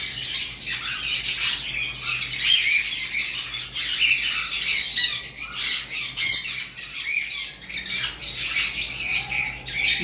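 A pair of breeding cockatiels, one white-faced pied male and one pale pied female, squawk loudly and continuously, harsh shrill calls tumbling over one another with some chirps and a flutter of wings.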